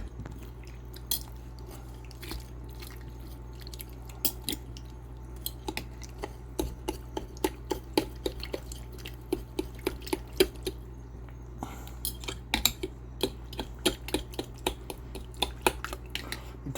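Salt being stirred into a fermented hot sauce mash, with a utensil clinking and scraping against the container in steady, irregular taps, close and fairly quiet.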